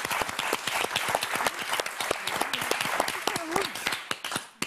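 Studio audience on the French game show Motus claps and applauds loudly and densely, a sustained burst of many hands that tapers off at the end, with a voice speaking through it.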